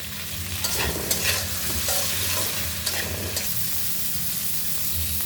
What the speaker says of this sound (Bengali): তো সবজিগুলো একটু ভেজে নিব